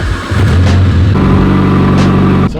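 A Mitsubishi Evo engine revs loudly and close up on a test drive, a steady throaty roar that shifts pitch partway through, then cuts off abruptly at the end.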